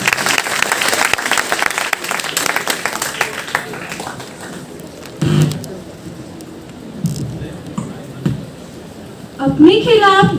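Loud audience applause at a university open mic event fills the start, then tapers off as a voice begins speaking over the fading claps.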